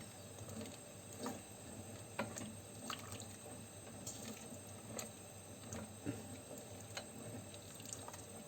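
Hot water pours steadily into a pot of pea stew, a soft continuous splashing and trickle with faint clinks, quiet and close, with no talk.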